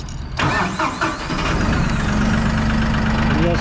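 A Massey Ferguson 1E.40 compact tractor engine cranks briefly, catches, and settles into a loud, steady idle close by.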